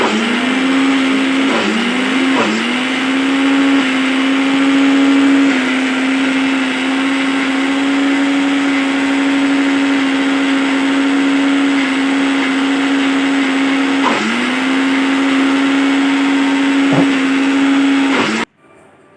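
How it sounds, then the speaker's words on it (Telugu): A mixer grinder grinds henna leaves with a little water into a fine paste, a loud steady motor whine running almost without a break for about eighteen seconds, with a few brief dips in pitch before it cuts off. "ఇప్పుడు ఇంకా మిక్సీ జార్ మిక్సీకి పెట్టి"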